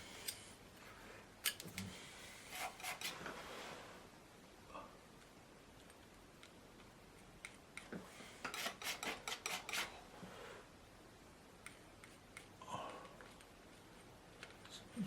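A painting knife scrapes and rasps over paint on a canvas while rocks are painted, in short bursts of quiet scratchy strokes separated by pauses, close up and faint.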